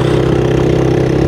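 A hired motorbike idling on a forest track in Tanzania, a steady, loud, close engine hum and putter with no talking.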